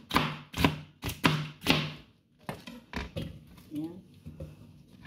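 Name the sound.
chopping garlic for gazpacho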